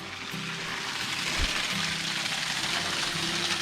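Small waterfall at a hot spring along the Carson River, a steady broadband rush and splash of falling water, continuous and fairly close.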